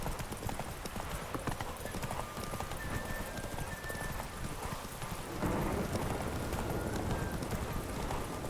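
Hoofbeats of a horse galloping in The Witcher 3 video game, a steady rapid clip-clop running throughout with a faint whinny and game music underneath.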